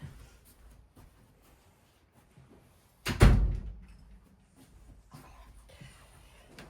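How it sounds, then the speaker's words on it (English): A door is shut indoors with one loud, sharp thud near the middle, preceded and followed by quiet room noise. "hold on one second, I'm going to close the door."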